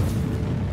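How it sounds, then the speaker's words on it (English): A Flame Cannon spell explodes in Hearthstone, a short, deep, rumbling boom that fills the whole moment and fades slowly without a sharp attack. "Another flame cannon?"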